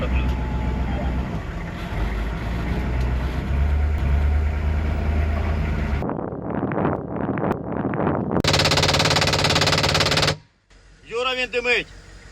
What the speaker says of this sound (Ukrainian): ви стріляли з кулемета Брауні